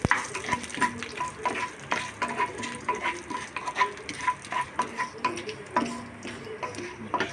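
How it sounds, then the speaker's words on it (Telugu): Dried red chillies and tempering seeds fry in hot oil in a kadai, a steady crackling sizzle broken by quick rhythmic taps and scrapes of a stirring spoon, close up with no voices. "ఆ ఎండుమిర్చి కూడా బాగా వేగనివ్వాలి"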